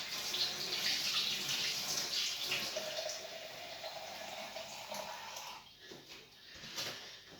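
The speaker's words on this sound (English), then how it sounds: "let's add some water to this and we'll give it a stir" Water runs steadily from a tap into a container to thin a mixture indoors, a continuous splashing hiss that gradually changes pitch and trails off into a few faint clinks, with no voices.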